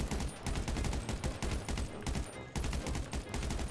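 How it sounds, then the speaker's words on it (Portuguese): Rapid police gunfire in a video game, with dense bursts of shots that keep firing almost without a break across the whole stretch, loud and close. "A polícia tá dando muito tiro, nem me dá uma bala."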